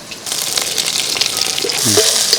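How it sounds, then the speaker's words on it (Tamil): Ripe red chillies sautéing with half-browned garlic in a pan, a continuous close sizzle with light stirring scrapes toward the end, no talking. "மிளகாயும் நல்லா வதக்கி எடுத்துக்கலாம்"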